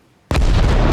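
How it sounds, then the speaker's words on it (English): A single loud explosion effect from the military game Arma Reforger bursts in abruptly after a moment of silence, with a sharp broadband boom that rumbles on heavily to the end. "So like small explosions to large explosions."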